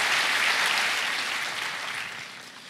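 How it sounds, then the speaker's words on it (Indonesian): Sustained applause fills a church hall during a Sunday morning worship service, a steady broadband clatter of many hands clapping for the worship leader, singers and musicians, loud at first and tapering slightly toward the end. "Boleh tepuk tangannya di extend buat worship leader, singers, dan para musicians."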